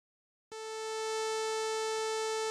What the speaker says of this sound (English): let's see what a saw wave looks like.